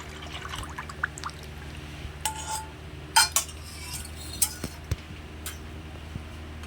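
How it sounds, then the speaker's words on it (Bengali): Mango juice poured into a wok to make raw mango aamsotto, with light metallic clinks and scrapes of utensils against the pan and a faint pour, quiet and close, no talk. "আমের জুস বের করে নিয়েছি। এবার আমি কড়াইতে ঢেলে দেব।"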